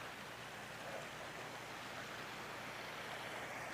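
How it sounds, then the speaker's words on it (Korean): A small waterfall at a rural campground in Australia gives off a steady, even rush of falling water, a soft, constant hiss with no change in level, heard alone with no voices. "폭포가 이렇게 있고"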